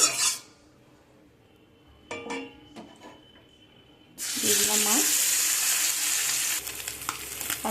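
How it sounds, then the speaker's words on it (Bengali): Small mourala fish drop into hot mustard oil in a kadai over a gas flame and burst into a loud, steady sizzle, after a quieter stretch of scattered pan clinks and handling noises. "হাফ হাফ মাছ ভাজা করবো"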